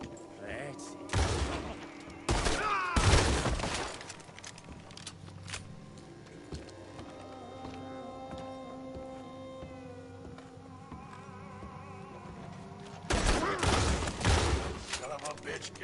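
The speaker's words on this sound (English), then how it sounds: "Come on where I can shoot you!" Gunfire in Red Dead Redemption 2: a few loud, sharp shot bursts near the start, a quieter stretch with tonal game sounds in between, then another heavy volley toward the end.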